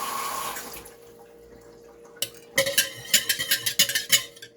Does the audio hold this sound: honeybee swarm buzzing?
no